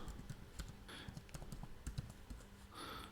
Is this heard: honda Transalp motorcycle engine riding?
no